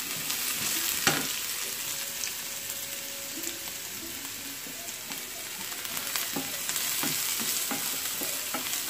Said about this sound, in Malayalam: ചെറു ചെറുതായിട്ട് അരിഞ്ഞ ക്യാരറ്റ് അതിലേക്ക് ഇട്ട് കൊടുക്കുക.